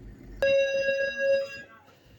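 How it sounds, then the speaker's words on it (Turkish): A doorbell chimes once, a clear sustained electronic ding-dong ringing out for about a second before fading, with faint room noise underneath. "Evet zil çaldı."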